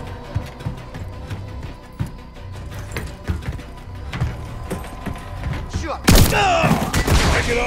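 RPG fire in the Call of Duty Modern Warfare III video game: scattered gunfire and thuds, then a sudden loud blast and roaring whoosh near the end, with voices talking underneath.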